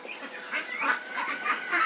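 A flock of ducks on a duck farm quacks and honks continuously, many overlapping calls at moderate distance and fairly quiet.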